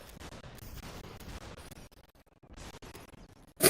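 Shotgun blasts in the VR game SUPERHOT come as a quick string of cracking shots, then a brief lull, then one especially loud, close blast right at the end.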